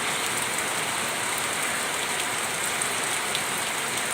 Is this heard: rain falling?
yes